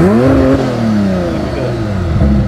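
A tuned 850 hp Porsche 911 Turbo at a dragstrip revs at launch with a loud, close engine roar whose pitch sweeps up and down as the throttle is worked, with no voices over it.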